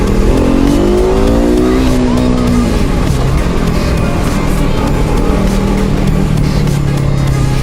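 A loud KTM RC250 motorcycle engine revs up, its pitch climbing, then drops back to a steady, rumbling drone that holds to the end.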